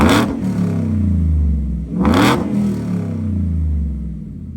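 A 2015-2020 Ford F-150 with a Flashark cat-back exhaust revs twice in sharp blips, each surge climbing quickly then falling back to a deep, loud rumbling idle, close by with no talking.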